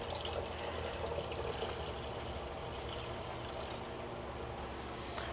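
Water runs steadily into a jar holding cream mix for ice cream, a continuous close pour with a bright splashy hiss, no voices.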